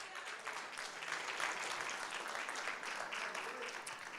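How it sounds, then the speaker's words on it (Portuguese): A church congregation applauds together in a sustained wash of clapping that swells in the middle and holds at a fairly faint level, with no voices. "você consegue aplaudir o Senhor?"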